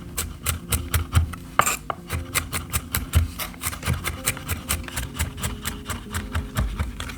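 A kitchen knife chops garlic cloves on a cutting board, a steady run of close, crisp taps and rubbing scrapes with no talking.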